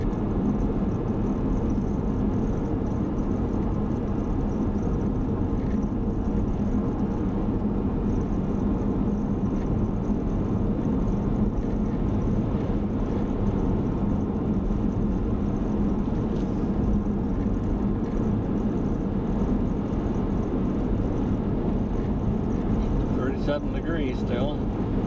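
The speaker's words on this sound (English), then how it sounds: "Using my engine as brakes." A car engine braking while driving down a snowy mountain pass gives a steady low drone with road rumble. It runs continuously at moderate level, with faint light clicks near the end.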